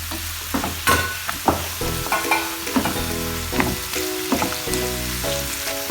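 Onions and tomatoes frying for parappa dum biryani are stirred in a pan, with a bubbling sizzle broken by irregular scrapes and clacks of the spoon against the metal, close up with no voices.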